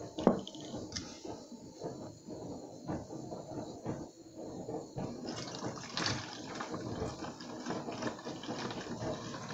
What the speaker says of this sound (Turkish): Biraz da şu şişenin içerisine